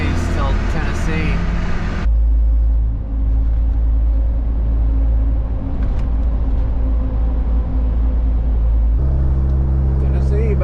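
A car cruises along the I-40 highway toward Tennessee in steady, loud low road rumble, with people talking inside at the start and again near the end.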